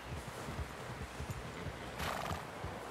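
A horse in Red Dead Redemption 2 whinnies with a brief bright neigh near the end, over quiet clip-clopping hooves and low ambient game sound.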